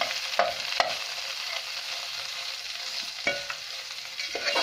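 Radish leaves frying in oil, a constant close sizzle punctuated by a few scraping stirs of a spoon in the pan, with no talking.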